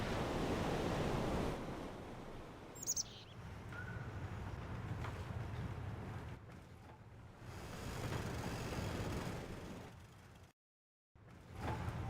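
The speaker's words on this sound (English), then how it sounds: "Yeah, the sound of the waves are cool, right?" Ocean waves wash in a soft, continuous surf ambience on a C&C Generals World Builder map, rising and falling gently and fairly faint, with a brief dropout near the end.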